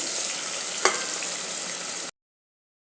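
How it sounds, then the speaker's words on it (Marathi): Two vertically sliced onions frying over high heat in a pressure cooker for egg biryani, giving a steady close hiss that cuts off abruptly near the end. "हे दोन कांदे आहेत उभे चिरलेले आता याला आपण व्यवस्थित गोल्डन ब्राऊन रंग येईपर्यंत आपण याला तळून घेऊया व्यवस्थित"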